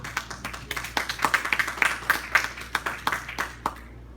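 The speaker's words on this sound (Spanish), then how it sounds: "Dar un fuerte aplauso al Rey" Sparse, uneven clapping from a church congregation during a Spanish-language sermon, individual claps distinct and irregular rather than a dense ovation, moderately close and fading out near the end.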